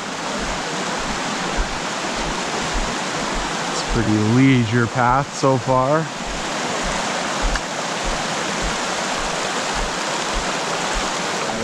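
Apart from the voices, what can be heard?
Ribbon Creek stream flowing beside hiking path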